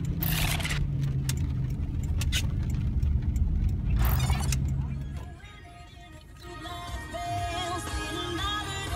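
Inside a car while riding on a rainy day, a steady engine and road rumble with patter and scraping, fading to a quieter, lighter hum partway through.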